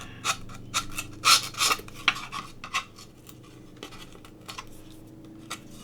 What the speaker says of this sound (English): you just go in and file them off the same way